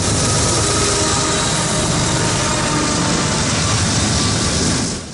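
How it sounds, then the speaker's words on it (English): A CN freight train roars past continuously at close range in minus 35 °C winter cold, a loud, dense broadband rush of wheels and cars that holds steady before easing slightly at the end. "I was trying to film a train"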